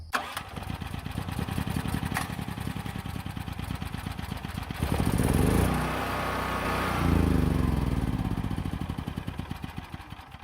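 Gasoline generator starting with the choke on: a rapid cranking putter that catches and swells into a loud running roar, then settles to a steady engine drone, close and without talk.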